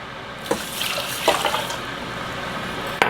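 Water running from a faucet, likely measuring a cup of water to cook with rice at a 2-to-1 ratio, flows steadily with a few louder splashes and clinks, close by and alone.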